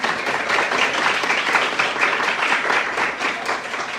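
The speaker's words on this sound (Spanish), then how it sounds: "No sé si es que podríamos darles un fuerte aplauso a las personas" Attendees and panelists at an academic talk receive a strong round of applause, a loud, dense, steady burst of many hands clapping that fades slightly at the end.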